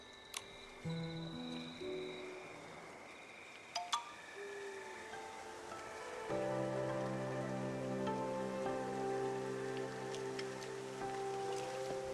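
Strange rain in the video game Infinity Nikki, soft pattering drops on surfaces mixed with faint clinks and sustained musical tones, quiet and steady throughout with no speech.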